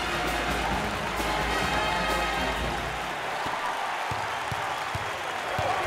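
Student section of a packed arena at a Big XII tournament game between Kansas and Baylor, roaring with sustained cheering and applause that stays loud and continuous throughout, with a few sharper claps toward the end.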